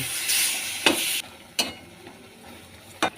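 Boiled lentils being stirred together with water lily stems in a pan, a soft sizzle under a few sharp scraping strokes of a spatula, close and with no voices.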